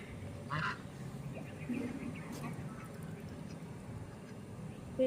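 Ducks near a pond, with a fish following them in the water, give faint, distant quacks in brief bursts under low background noise and quiet voices.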